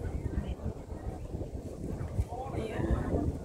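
Wind blows steadily outdoors at a museum in Macau, a continuous low rushing buffet against the microphone with gusts rising toward the end.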